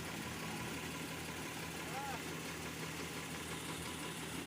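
A tractor hauling a trolley of harvested paddy rice idles in the open with a steady, continuous mid-pitched rumble and no change in loudness until it cuts off at the very end.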